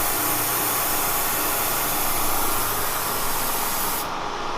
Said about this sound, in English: I've got the nozzle on each side of the cutter, and it's really putting some coolant there on it.